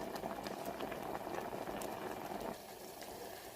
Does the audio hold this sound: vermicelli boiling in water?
yes